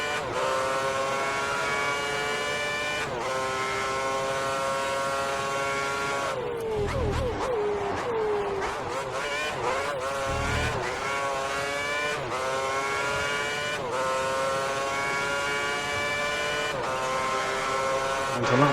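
Formula 1 race cars at Bahrain in a racing video game, high-pitched engines screaming and shifting gears continuously, rising and falling in pitch through braking and acceleration, with brief thuds and occasional talk.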